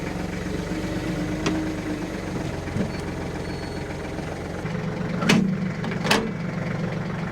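A tractor engine idles with a steady low rumble, fitted with a bucket for carrying firewood, joined by a couple of sharp metallic clanks near the end, no voices present.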